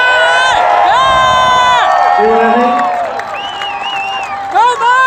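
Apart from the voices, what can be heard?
rally crowd applauding and cheering for Mike Lindell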